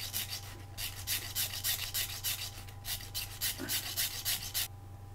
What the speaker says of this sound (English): get yourself a piece of sanding stick, and as you put them on, just sand the side